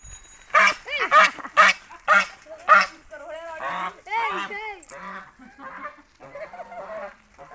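Geese honk at a village pond in a run of loud, close calls over the first few seconds, then softer, more scattered honks and chatter follow.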